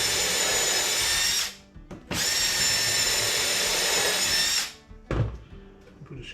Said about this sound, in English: Put some countersink holes in here.